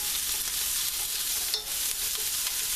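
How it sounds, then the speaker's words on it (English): Onions tipped into hot oil with browned, crispy carrots and stirred, giving a steady close sizzle and crackle of frying throughout with light scraping of the utensil, no talking. "so I'm going to add our onions"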